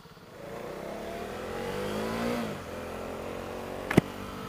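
KTM Duke 390 single-cylinder street motorcycle engine revving on and off the throttle, a steady mid-pitched engine note that rises, eases back and then holds, with a sharp click near the end.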